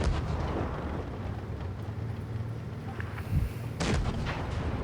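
Cannon fire from a Maus and Tiger II tanks in World of Tanks Blitz, heavy booming shots over a constant low battle rumble, with a louder burst near the end.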